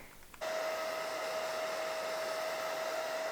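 A hair dryer drying a wig switches on abruptly and keeps running with a loud, steady whine and rushing airflow.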